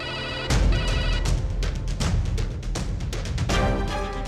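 A telephone rings continuously and fairly loudly, with repeated electronic bursts that have no pauses and no voices over them.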